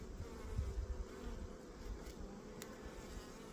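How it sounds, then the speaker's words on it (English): Worker bee, a queen's attendant, buzzing inside a hive beside a dead queen during a split and queen introduction, a faint steady hum with a low drone and a few brief higher whines. "There's a worker bee here, attendant, just the attendant, but the queen is dead."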